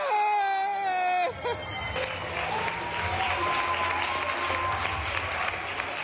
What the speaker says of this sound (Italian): Gli applausi in sottofondo